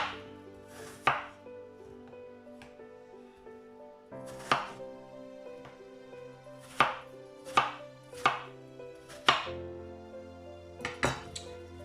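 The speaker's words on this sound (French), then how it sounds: "nous allons continuer à couper les pommes en tranches fines, rondelles" A knife cuts apples into thin rounds on a board for an apple tart: about a dozen sharp, close chopping strikes, spaced irregularly and sometimes in quick pairs, with faint ringing clinks and no talk.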